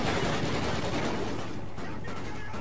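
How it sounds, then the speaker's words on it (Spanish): Dense rapid gunfire in the video game Call of Duty: Ghosts, a loud continuous fusillade of overlapping shots with no pause. "¿De dónde vienen los tiros?"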